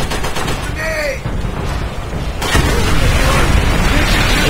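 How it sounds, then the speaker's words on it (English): A satchel charge blowing up a bunker in Call of Duty: World at War, a loud rumbling blast and crackle of gunfire with a brief whistling tone early on, growing heavier and denser toward the end. "Let's throw a satchel charge inside this bunker."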